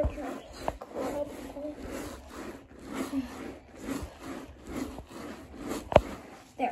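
Scrub brush scrubbing soapy carpet, a steady series of close, rough rubbing strokes with a louder scrape near the end.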